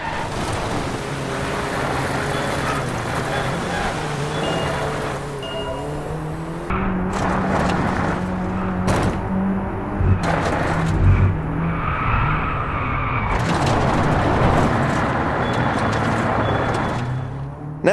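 Racing car in the game Driveclub rolling over changing surfaces, a continuous loud engine drone with gritty road rumble and shifting tire noise, steady throughout with a few brief breaks in texture.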